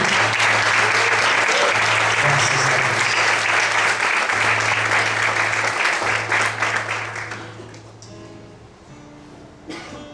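Church congregation applauding during an evening service, loud sustained clapping for about eight seconds that fades away, with a low sustained musical tone beneath and a voice speaking briefly near the end.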